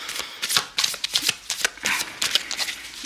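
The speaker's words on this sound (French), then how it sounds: "Je vais voir si je tire une dernière carte pour vous conseiller au mieux dans cette épreuve." Oracle cards being shuffled by hand before one is drawn, a close run of quick, crisp riffling flutters and slaps repeating steadily throughout.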